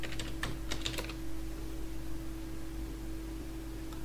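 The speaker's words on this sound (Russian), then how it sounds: "И печатаем код активации" Quick run of keystrokes on a computer keyboard while entering an activation code for the Travian browser game, a burst of clicks in the first second then quiet hum, close and fairly faint.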